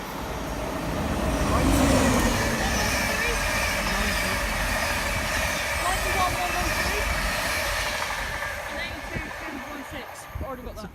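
A Thameslink train passing in London, a broad rumbling roar that swells in the first couple of seconds, holds steady, then slowly fades as it moves away.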